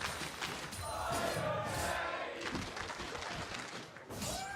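A large esports arena crowd at a League of Legends match roars and cheers continuously, loud and dense, swelling in the middle and easing slightly toward the end.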